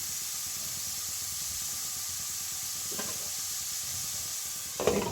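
Carrots frying lightly in a pan for Shahi pulao, giving a steady soft sizzle and hiss throughout, with a couple of brief clinks or stirring scrapes near the end.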